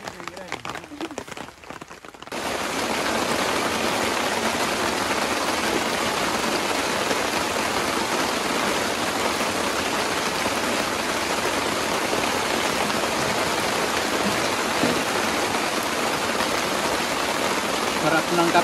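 Steady heavy rain pours down continuously after a quiet opening, a dense even hiss of water with no break.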